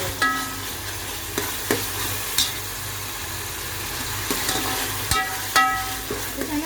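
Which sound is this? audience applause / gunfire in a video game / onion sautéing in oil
onion sautéing in oil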